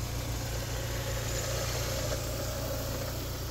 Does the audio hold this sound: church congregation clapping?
no